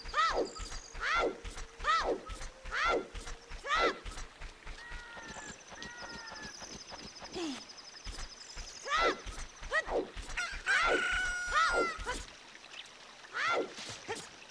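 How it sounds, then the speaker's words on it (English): Cucco chickens in The Legend of Zelda: Ocarina of Time give repeated sharp clucks and squawks in a bouncy rhythm over game footsteps and background music, fairly clear and near. "But those are chickens. Chickens of Hyrule."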